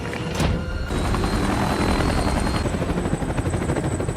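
A loud, steady helicopter roar with fast rotor chop, close and continuous throughout, with a brief whine near the start.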